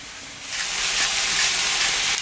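Meat medallions are laid onto a hot grill pan, setting off a loud, bright sizzle that swells within half a second and holds as a steady hiss with no voices.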